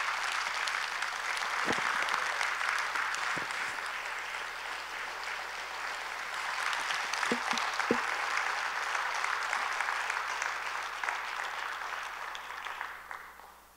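Congregation applauding in a church as a pastor comes forward at a Wednesday service, a steady wash of clapping from a large crowd lasting throughout, with a few thumps and handling knocks, fading at the end.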